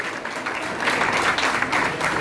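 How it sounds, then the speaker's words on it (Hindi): Hearty applause at a political felicitation event with a central minister, where party workers receive certificates. A brief, steady burst of many hands clapping, fairly close and loud throughout. "जोरदार जरा जोरदार ताली बजाइए जरा"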